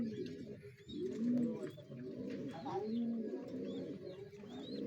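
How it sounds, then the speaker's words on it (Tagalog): A pair of breeder pigeons cooing close by, with repeated throaty rolling coos over a low steady background, and a person talking quietly at times. "gandang kalapate yan mga kabi"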